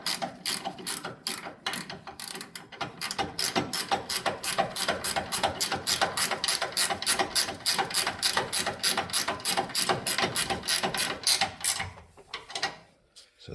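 A ratchet wrench clicks rapidly and steadily while tightening a Pacbrake airspring bracket bolt on a RAM 2500 truck, close and loud, running for about twelve seconds before stopping.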